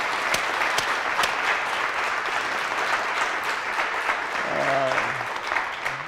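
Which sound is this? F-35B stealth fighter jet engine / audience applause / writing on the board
audience applause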